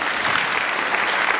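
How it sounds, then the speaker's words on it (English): An audience at a Sai satsang gathering in New South Wales bursts into steady, full applause, many hands clapping together in an even, continuous wash. "A round of applause for everyone."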